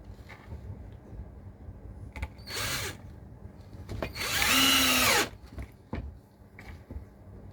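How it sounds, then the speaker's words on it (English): Close by, a power drill drives screws through wood for a bridge diorama, giving a short whine and then a longer winding-down burst amid quiet clicks and handling noise. "That drill's really pulling them screws in."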